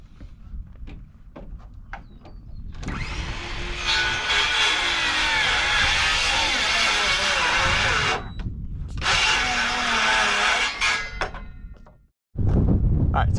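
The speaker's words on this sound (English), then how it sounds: "thankfully we have a cordless circular saw," A cordless circular saw trims wall boards while standing up walls for a new shop building, with scattered knocks before a loud, steady whine for several seconds, a brief pause, another long cut, then a sharp stop.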